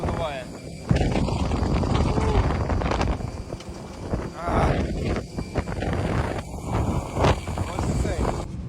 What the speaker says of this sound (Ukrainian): Вітер, якщо чесно, дуже жорсткий